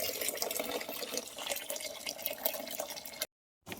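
Water pours and drips into a container of jowar (sorghum) grain set to soak for bibdya, a close, uneven trickling stream that cuts off abruptly near the end, then resumes briefly.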